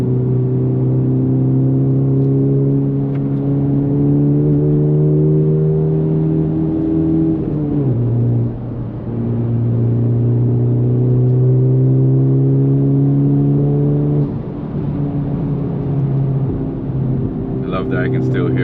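Honda Civic FL5 turbo with an AWE Touring exhaust cruising on damp roads, a loud, close, steady engine drone heard from the cabin that dips and shifts pitch briefly midway, with no talk over it.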